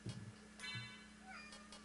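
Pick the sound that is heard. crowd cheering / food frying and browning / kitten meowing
kitten meowing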